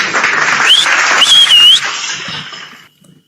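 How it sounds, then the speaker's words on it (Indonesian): A burst of audience applause with a couple of sharp whistles rings out for a few seconds, then fades to silence. "Tepuk tangan lagi deh."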